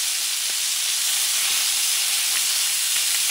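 Pork shoulder pieces turned in a hot frying pan, a loud, steady, close sizzle and hiss of fat with faint ticks and pops running throughout.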